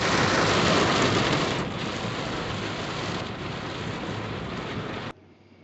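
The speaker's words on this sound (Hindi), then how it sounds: "इतनी तेज़ की बारिश हुई, जिसको मूसलाधार बारिश कहते हैं।" Heavy, torrential monsoon-style rain roars steadily and loudly with a dense, rushing hiss, and a low thunder rumble underneath, before cutting off abruptly near the end.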